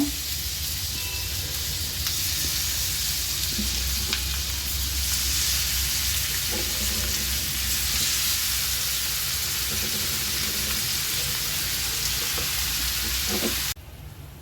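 Bihari beef kebabs fry in about a tablespoon of melted ghee, giving a steady, close, dense sizzle with scattered pops and faint clinks of turning, holding even throughout before easing slightly at the very end, with no voices.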